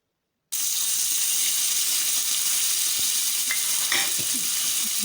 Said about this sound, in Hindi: इनको हम ऑयल में फ्राई करेंगे 2 से 3 मिनट के लिए, इसका कलर चेंज हो जाए।